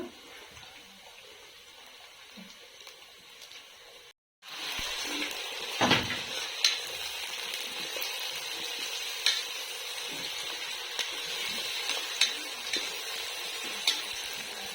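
Green chillies and fresh curry leaves fry in hot oil with browned onions. A steady close sizzle and hiss follows a brief silent gap, with scattered small clicks and clatters and no speech.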